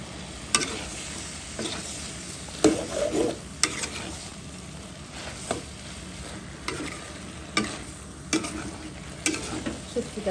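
Radish stems stirred and frying in hot oil for a dried mola fish and eggplant curry. Steady soft sizzle runs under repeated scraping clicks of the spoon, with no talking.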